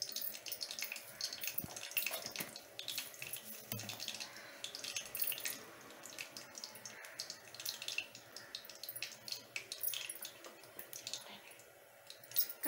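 Mustard seeds spluttering in hot oil on a stove give off scattered, faint crackles and pops over a low sizzle that continues throughout.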